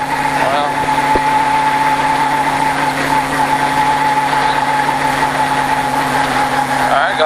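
A stock car at a Richard Petty Driving Experience track holds high RPM, a loud, steady, unbroken engine drone filling the cabin, with a voice partly buried beneath it.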